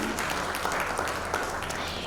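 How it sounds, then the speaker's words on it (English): Conference audience applauding a woman's achievement at a maritime industry awards event, steady and fairly loud throughout the short stretch with no speech over it. "So big round of applause for that achievement, ma'am."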